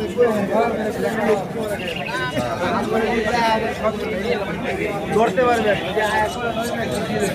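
A busy outdoor crowd chatters loudly while pigeons coo and birds chirp throughout, mixed into a dense, continuous din at a pigeon and bird market in Sreepur, Gazipur.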